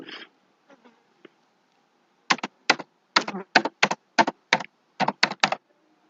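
Keys clack on a computer keyboard as a title is typed into a Word document, a few faint taps at first, then a brisk run of about a dozen crisp, close keystrokes in short clusters with pauses between.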